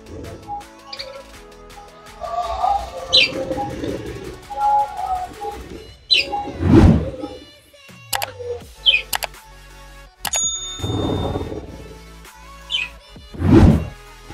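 Pet budgerigars chirping in short bursts during a bath on a hot day, bright calls scattered among splashing and handling noise, with a voice speaking now and then.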